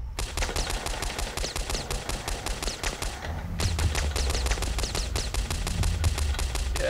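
Rapid automatic Uzi fire from the video game Boxhead 2Play, a loud sustained stream of closely spaced shots that stops briefly mid-way, then resumes even louder over a low rumble.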